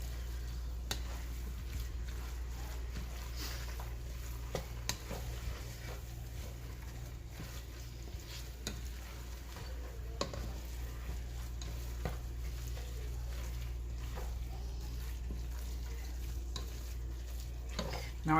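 Spoon stirring chicken patty filling moistened with chicken broth in a bowl, a steady soft wet scraping and squishing with occasional sharper clinks, close and alone throughout.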